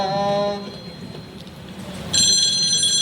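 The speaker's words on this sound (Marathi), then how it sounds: "परत फोन" A telephone rings indoors in a Marathi domestic drama: a bright electronic ring fades at the start, then a louder, sustained high trill bursts in after a short quiet stretch.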